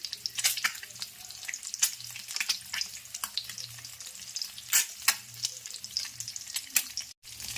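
Boiled eggs fry in hot oil with a close, crackling sizzle and repeated sharp spits and pops, stirring scrapes scattered through, moderately loud and steady.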